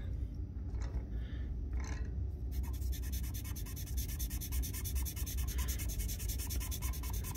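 Soft continuous scratching and rubbing of charcoal drawn across smooth Duralar drafting film, close and quiet, with a brief rhythmic stroking pattern partway through.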